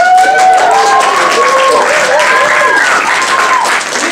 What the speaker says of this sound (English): you guys clap and cheer all night